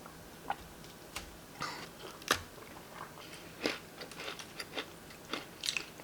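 A crisp snack studded with apple pieces, crunchy outside and dense inside, is bitten and chewed close to the ear, giving a quiet series of sharp, irregular crunches and clicks over a faint background hum.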